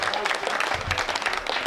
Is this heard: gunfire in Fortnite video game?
no